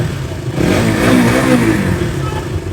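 A used motorcycle engine, a second-hand bike at a Bangalore used-bike dealer, starts and revs up and down for a couple of seconds, close and fairly loud, then settles toward idle.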